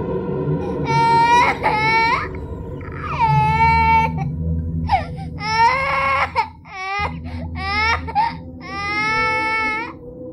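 Infant crying loudly at night, repeated wailing bursts with sharp breaths between, close and intense, over a low background hum.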